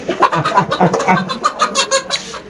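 Chickens cluck in a busy bird and poultry market, a steady run of overlapping clucks and squawks close by with crowd noise underneath.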